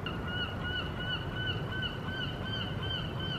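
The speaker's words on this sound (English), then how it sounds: "You can probably tell by the sound of that seagull." Repeated calls from a seagull in Brighton, England, steady and fairly clear over a constant background rumble, with no voices.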